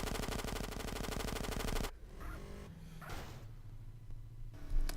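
Gunfire in the GTA San Andreas video game comes as a rapid, dense burst of repeated shots, then a few scattered quieter reports, all fairly faint overall.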